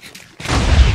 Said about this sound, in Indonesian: Iya guys, kita bisa meledak coy, kayak TNT ya, dengan memakan roti TNT ini.